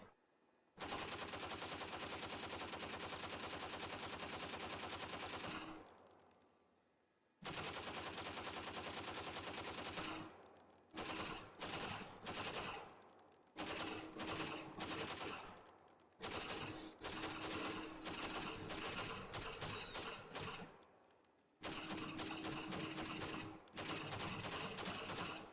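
Sustained full-auto fire from a 13-round Valorant gun, recoil uncontrolled, in the video game: long unbroken streams of loud, rapid shots, then shorter choppy bursts and stops, ending on another sustained stream.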